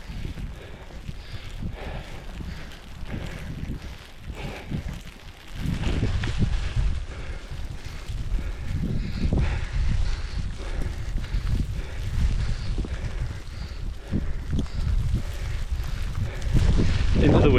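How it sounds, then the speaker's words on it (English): Strong gusty wind buffets the microphone on a hike along Hadrian's Wall, a loud, rumbling roar that swells after a few seconds and keeps surging. "The wind's really got up now."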